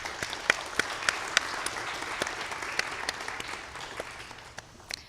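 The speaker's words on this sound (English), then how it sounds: "So we have a round of applause." A modest audience at a marketing career panel claps, a fairly thin patter with distinct individual claps, tapering off gradually toward the end.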